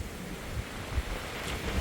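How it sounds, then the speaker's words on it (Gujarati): Strong stormy wind roars steadily, a broad rushing noise with gusty buffeting against the microphone and no other clear sounds. "આજની તારીખમાં પવન ખોપ આવ્યો ભાઈ વાવાઝોડા જેવો પવન આવ્યો"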